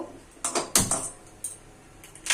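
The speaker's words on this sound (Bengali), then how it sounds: "এখন আমি গ্যাসে কড়াই বসিয়ে দিয়েছি গ্যাসটা জেলে দেব" A gas stove being switched on and lit under a wok: a handful of sharp mechanical clicks and ratcheting knob turns in quick succession, close and fairly loud, with no talk.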